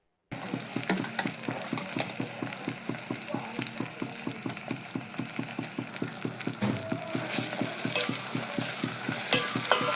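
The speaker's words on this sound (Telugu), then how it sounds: "ఇవి కొద్దిగా ఫ్రై అయిన తర్వాత దీంట్లో ఉల్లిపాయ పేస్ట్ వేసుకుని" Onion paste fries in a pan with a steady close sizzle under rhythmic spatula scrapes and taps, fairly quiet and continuous after a short silent start, with no talking.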